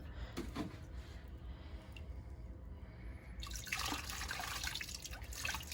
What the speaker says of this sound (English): And then what you need to do is just rinse these out.